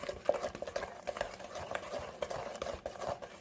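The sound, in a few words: mixing whole milk into coconut custard pie filling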